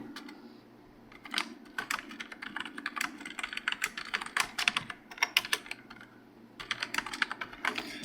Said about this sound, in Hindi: यहाँ पे मैं आपको कुछ उर्दू टाइप करके दिखाता हूँ।